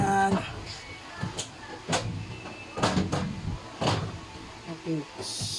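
A metal cabinet drawer box slides in during assembly, giving a series of short scraping and clunking metal knocks spaced roughly a second apart, fairly quiet and close.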